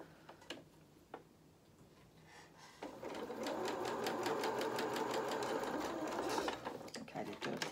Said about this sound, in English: they've done a little reverse stitch just there just to hold it